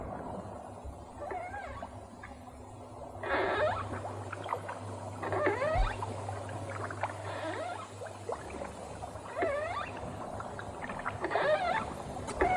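Oars dipping and creaking as a boat is rowed across a river in a cartoon, heard as repeated splashy strokes and squeaky wooden groans over a low steady hum, with no talking.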